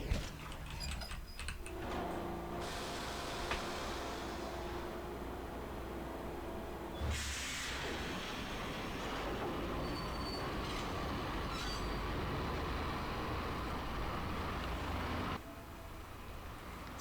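A train in the video game Max Payne rumbles past continuously with grinding, squealing wheels and rattling carriages, loud and close, with a sudden shift in the roar partway through before it drops away near the end.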